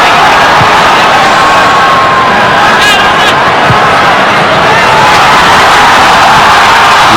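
A large stadium crowd roars and cheers steadily at a Nepal vs Australia football match in Western Sydney, a dense, loud wash of voices with scattered whoops and shouts throughout.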